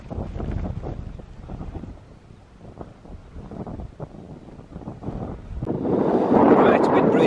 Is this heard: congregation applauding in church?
no